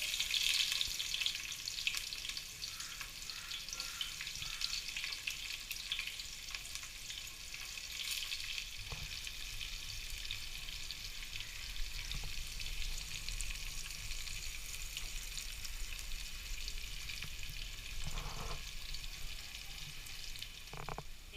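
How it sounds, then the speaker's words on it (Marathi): Long-cut sliced onion frying in a pan for Agri-style mutton curry, a steady soft sizzle running throughout with faint occasional stirring clicks, no talking. "लांबट चिरलेला कांदा टाकायचा आहे."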